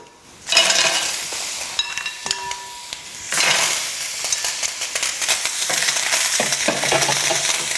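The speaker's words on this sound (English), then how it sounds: "that pan is pretty hot and it's absolutely empty. So these will sizzle nice." Loud hissing sizzle as mussels hit an empty hot pan, with clattering shells and metal scraping, then sustained frying.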